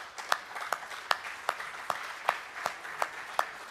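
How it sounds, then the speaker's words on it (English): Conference audience at an international water dialogue event applauding two speakers, heard as moderately distant clapping with a regular rhythm of sharper individual claps standing out over the wash. "I would ask a big applause for David and Gaetano"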